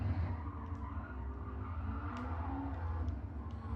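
Race car fitted with a stock 650 engine in a driving video game, a steady droning engine hum that runs continuously, moderately loud, with faint brief clicks and no talk.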